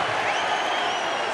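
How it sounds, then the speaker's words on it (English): Rugby league supporters of the Rovers applaud at a stadium during a Leigh versus Hull KR match, a dense, steady crowd clapping filling the whole moment. "Applause from the Rovers supporters."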